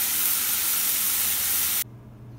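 Tilapia fish fillets fry in a pan with a loud, steady, broadband sizzle that hisses continuously for nearly two seconds, then cuts off abruptly, leaving a low quiet hum.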